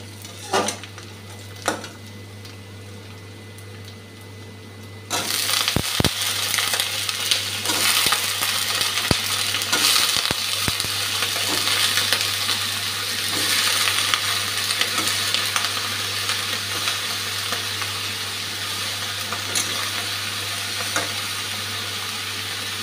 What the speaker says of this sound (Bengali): এখন বেগুনটা দিয়ে দেব।